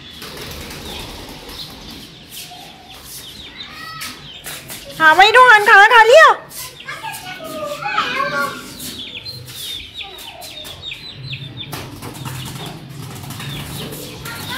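A flock of pigeons bursts into flight with a loud flurry of flapping wings lasting about a second while a child chases them outdoors, followed by chicken clucks, faint birdsong and people talking.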